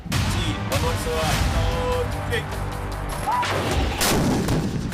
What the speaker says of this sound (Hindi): इस प्रकार से हमारी आर्टिलरी की तजवीज़ जो है वो दुश्मन को पूरी तरह से बर्बाद करती है